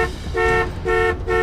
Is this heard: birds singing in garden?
no